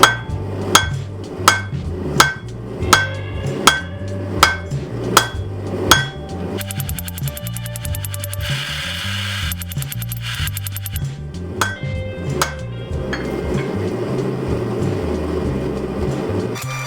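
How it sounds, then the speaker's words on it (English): A power hammer pounds a 2-pound piece of round steel stock into a square bar for a forged tomahawk, with rapid, evenly spaced ringing blows, a brief burst of fast clattering strikes in the middle, then steady mechanical hammering. "the first thing we need to do is make this square. And for that I'm going to use the power hammer a little bit."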